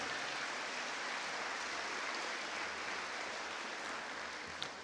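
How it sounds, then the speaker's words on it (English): Applause at a Hall of Fame induction event for board members, a faint, distant, steady hiss of many hands clapping in a large room. "How about a nice round of applause for those gentlemen?"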